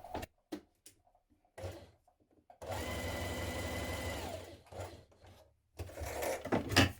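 A domestic sewing machine runs a steady line of long gathering stitches on a 1970s-style wrap dress bodice front for a few seconds, with handling clicks and fabric knocks before and after.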